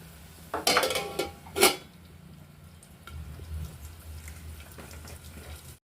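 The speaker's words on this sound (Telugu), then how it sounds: "పోపు దినుసులు కరేపాకు పచ్చిమిర్చి ఎండుమిర్చి మంచిగా ఫ్రై చేసుకుంటున్నాను" Spices, curry leaves and green and dried chillies frying in a pan, with a low steady sizzle under two sharp clinks of utensils against the pan near the start.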